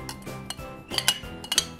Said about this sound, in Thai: คนให้เข้ากันอีกครั้งค่ะ